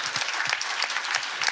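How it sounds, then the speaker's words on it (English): Conference audience applauding at the close of a keynote session on generative AI, a brief, steady burst of many hands clapping at moderate level with no voices. "And a big round of applause,"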